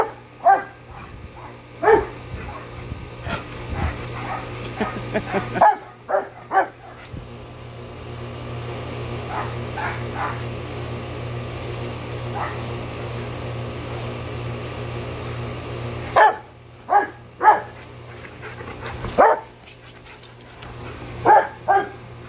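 A dog barks in scattered bursts, some sharp yips close by, with a steady low engine-like hum underneath throughout.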